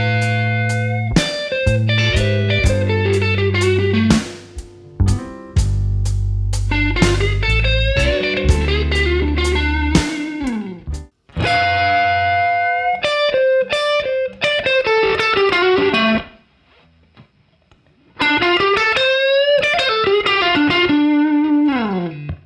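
Distorted electric guitar plays a slow 12/8 blues lick in D, with bent, sustained notes and quick runs separated by short pauses, loud and alone.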